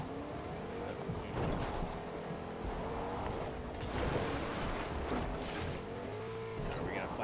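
A car is driven in the Fortnite video game, its engine roaring at close range with rising revs and some tire noise, while players talk over it.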